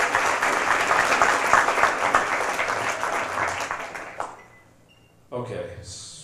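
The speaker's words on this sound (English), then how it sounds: "We'll give him a round of applause." Audience applause at a Northern Burlington athletic hall of fame ceremony, sustained clapping from a sizeable crowd that fades out after about four seconds, followed by a brief silence and a short noise burst.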